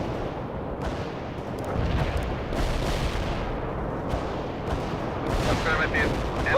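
Battlefield combat in the World in Conflict strategy game: dense rolling gunfire and booming missile launches and explosions, loud and continuous, with bursts of heavier blasts throughout.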